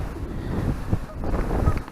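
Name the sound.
wind outdoors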